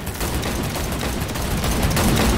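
Rapid, dense gunfire in Cyberpunk 2077 during a car chase with Jackie driving: continuous loud bursts of shots layered over a low rumbling engine bed, no voices.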